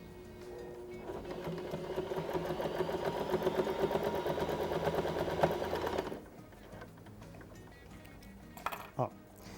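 A sewing machine stitches two patchwork fabric pieces together for a tote bag. It runs with a fast, even rattle for about six seconds, then stops, and quieter handling noises and a faint voice follow.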